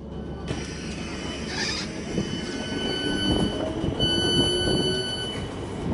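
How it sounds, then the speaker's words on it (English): Inside a pair of Class 455 electric trains running to Vauxhall in London, steady rumbling wheels and traction hum fill the carriage, with thin squeals of wheels on rail rising over the noise. "we are on these pair of 455s to Vauxhall"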